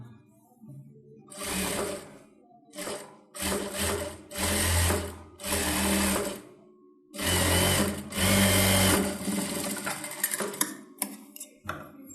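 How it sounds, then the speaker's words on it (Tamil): A sewing machine runs a folded seam on a blouse in short, loud, close bursts separated by pauses, the motor starting and stopping about eight times. "இதை அப்படியே நீங்கள் மடித்து தையல் போட்டுக்கோங்க."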